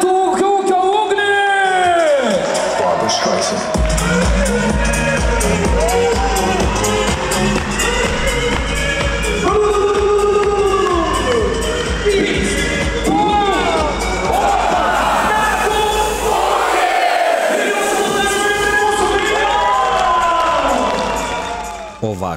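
Loud crowd at a farmers' awards ceremony in Telšiai, with sustained cheering, whoops and applause filling the hall throughout, voices shouting over the continuous noise.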